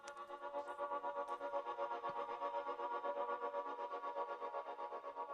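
A distorted, buzzy tone pulses in a steady rhythm through a music mix, quiet and continuous with a gritty, saturated edge.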